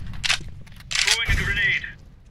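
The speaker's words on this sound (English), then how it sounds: "Throwing flashbang." Flashbang grenade thrown in the Counter-Strike video game: a couple of short sharp cracks and clinks close up, with a brief rattling tail, over faint background noise.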